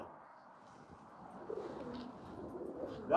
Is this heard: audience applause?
no